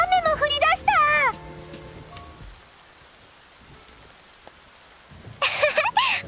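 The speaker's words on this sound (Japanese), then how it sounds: "うわあ、雨も降り出した。" A steady heavy downpour hisses in a summer scene from the game Princess Connect Re:Dive, rain filling the gap between character voice lines at the start and end.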